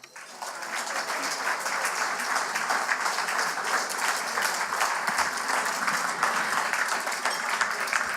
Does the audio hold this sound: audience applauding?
yes